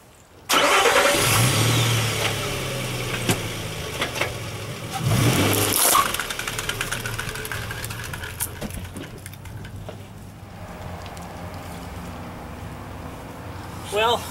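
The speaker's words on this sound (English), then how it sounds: "I'm going to drive over it with my Xterra" A Nissan Xterra engine cranks and catches with a loud start, revs and runs as the SUV drives over a flashlight, then settles to a quieter idle, with a voice talking over part of it.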